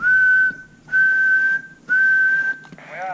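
A person whistles into the microphone of a Uniden CMX660 CB radio, making three steady, sustained tones of nearly constant pitch that are separated by short gaps. They are loud and close, and a brief burst of static follows.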